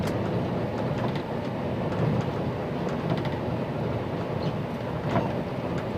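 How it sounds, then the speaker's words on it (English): Disneyland Mark V Monorail Blue rolling into the park, a steady close rumble of the train's running gear with a constant wind-like hiss, no voices. "Monorail Blue entering the park."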